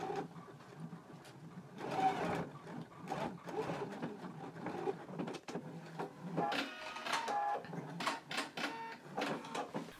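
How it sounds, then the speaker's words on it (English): A sewing machine stitches across the straight edge of a fabric sleeve tab, giving a close, uneven clatter of short bursts and rapid ticks that speed up toward the end. "we can take it to the machine and we can stitch right across the straight edge of the tab right along that broken"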